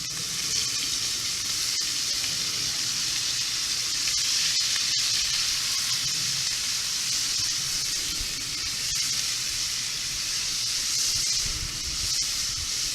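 Scallops sear over full, high heat, giving a steady, bright sizzle and hiss that holds at an even level throughout with no voices.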